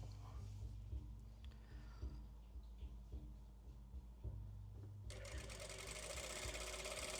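A sewing machine stitches curtain fabric close by in short, rhythmic bursts of needle chatter with pauses between. Then a louder, continuous run of stitching sets in and holds to the end.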